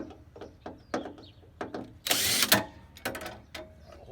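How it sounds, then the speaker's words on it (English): Screws are test-fitted into the holes of a homemade Jeep tailgate table, with a string of sharp close clicks and small knocks and a brief louder scraping rasp partway through. "I'm going to test fit those screws in the other two holes."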